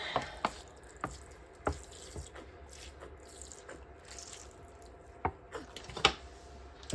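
Water trickles and splashes as it is poured onto soil in a pot of newly sown basil and tulsi seeds, with scattered drips and small knocks at irregular intervals over a soft running background.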